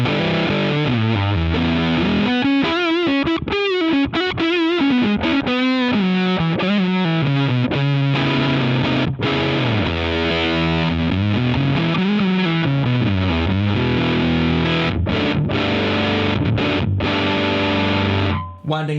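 Electric guitar played through a D. Kowalski Rare Earth pedal with the swell knob cranked, giving a loud, heavily saturated distorted tone that rings out steadily in sustained melodic lines and chords, with no talking.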